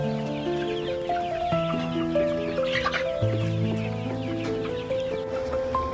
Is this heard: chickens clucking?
yes